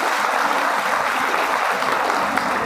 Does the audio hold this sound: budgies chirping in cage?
no